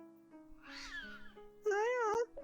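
Video game cat being petted gives two clear, close meows, the second louder and longer, over a soft background tone.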